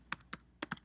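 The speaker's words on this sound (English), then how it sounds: "just type in whatever the assignments are for the week of October" Computer keyboard typing while assignments are entered, a few quick clusters of crisp key clicks in two bursts, close and fairly quiet, with no voice.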